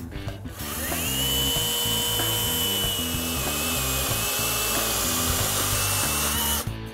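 A chainsaw running through a cut during an outdoor lawn care tools demonstration, a steady, loud motor whine held for several seconds after a quick rev-up, then dropping off at the end.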